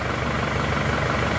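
An Isuzu D-Max diesel engine idles steadily while warming up from a cold morning start after repairs, giving a continuous rough, even rumble throughout with no talking.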